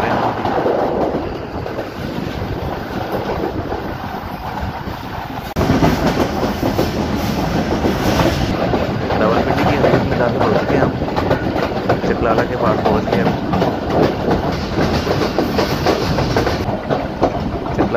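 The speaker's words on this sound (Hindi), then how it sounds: "कोरंग रिवर ब्रिज इस्लामाबाद से पास हो रहे हैं" Pakistan Express passenger train crossing the Korang River bridge near Islamabad, a loud continuous rumble with rhythmic clickety-clack of wheels on rail, heard from on board, growing heavier midway.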